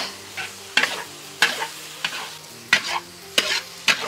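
Meat stir-fries in a pan with cooking wine and salt, a steady close sizzle broken by regular scraping strokes of a spatula about every half second to second.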